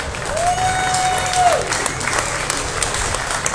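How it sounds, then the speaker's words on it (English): Spectators at a beef cattle show give a round of applause, a moderate wash of clapping with a faint whistle-like tone early on and some background crowd noise. "Give them all a nice round of applause."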